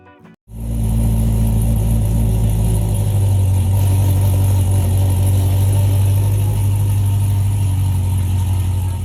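A 1966 Corvette with an LT4 engine fires up abruptly, then settles into a loud, close, steady rumbling idle that shifts slightly in tone partway through, with no talking.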